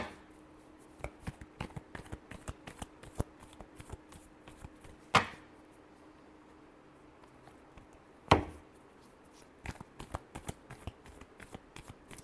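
Tarot cards are shuffled by hand in a quiet room, making a run of soft rapid ticks and flicks with two sharper snaps as the deck is tapped or split.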